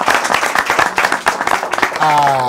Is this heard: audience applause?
yes